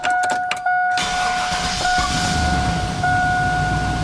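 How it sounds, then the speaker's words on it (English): A couple of metallic clicks and a warning chime, then a GM Vortec 6.0-liter V8 truck engine, after a water pump replacement, cranks and catches, settling into a loud, rough, steady idle with a faint tone. "now I'm going to start it up"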